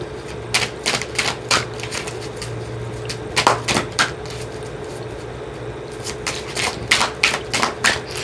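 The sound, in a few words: shuffling Doreen Virtue Archangel Oracle cards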